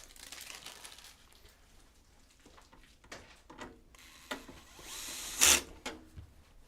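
An electric screwdriver drives screws into PC parts during a computer build, with short whirring bursts and clicks amid light handling and crinkling noises, then a louder burst near the end.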